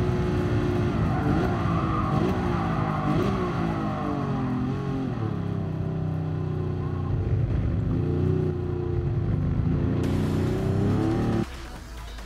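Race car engines roar together at the start of a GT Sport video game race, a loud sustained whine with rising and shifting revs that drops off sharply near the end.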